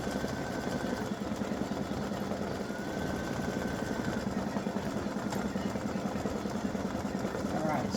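An embroidery machine stitches a solid fill, a fast steady mechanical whirring and tapping that runs continuously at moderate level, with a voice talking over it.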